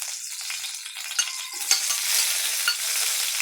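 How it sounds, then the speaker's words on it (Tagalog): Onion and ginger fry in a pan at breakfast, giving a soft, steady crackle with a few sharper pops and faint stirring scrapes throughout. "Inilagay na po nila yung sibuyas at luya."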